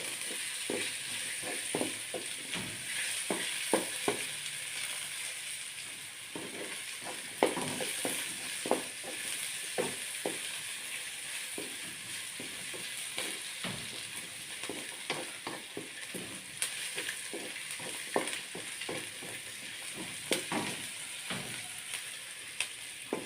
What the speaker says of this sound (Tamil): குடமிளகா ஆட் பண்ணி நல்லா வதக்கணும் காய்ஸ்.